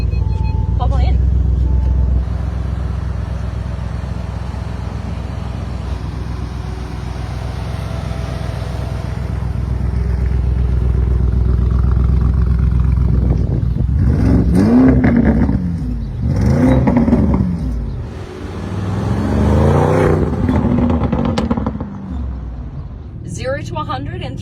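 Sports car engine rumbling steadily at low pitch, then surging loudly as it accelerates in several strong revving bursts, with people talking over the engine noise.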